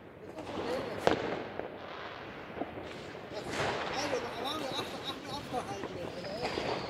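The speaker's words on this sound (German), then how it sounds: "Ein Böller, ein China-Böller!" Sharp firecracker bangs pop out of a dense, crackling New Year's Eve fireworks backdrop, with one louder close report early on amid excited shouting voices.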